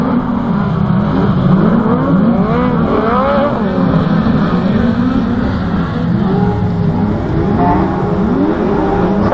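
Autograss race cars pulling away from the start line at a St Neots meeting, several engines revving hard at once with overlapping rising and falling pitch sweeps, loud and continuous throughout.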